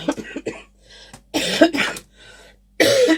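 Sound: cough

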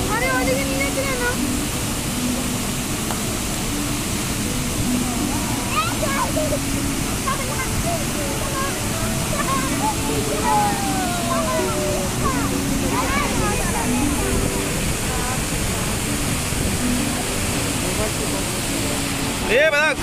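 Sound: Chitrakote Waterfall roaring

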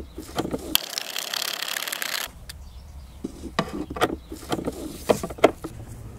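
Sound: tightening a bolt on a Skoda Fabia

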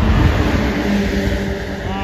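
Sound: noisy cars passing by

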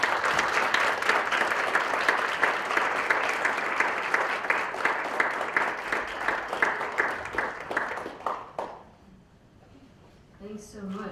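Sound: audience applause welcoming speaker Eula Biss

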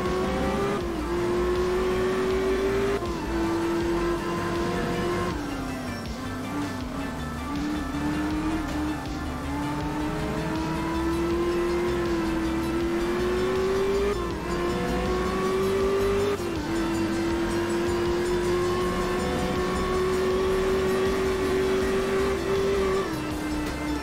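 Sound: BMW M1 Procar rally car driving, Art of Rally video game

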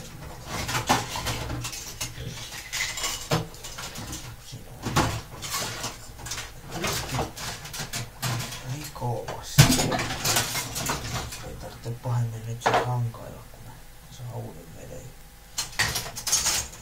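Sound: washing dishes by hand, clattering dishes and cutlery

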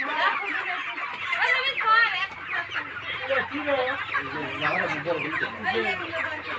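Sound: chickens clucking

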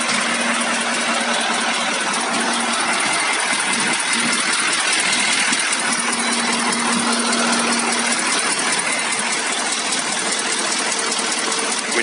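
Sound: KAMAZ 6520 truck diesel engine idling, Euro 4 single turbo

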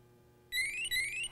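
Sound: Sperian ToxiPro CO monitor alarm beeping

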